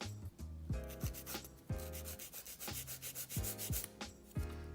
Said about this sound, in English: I'm just gonna go ahead and start to file the corners of my nails just to sharpen them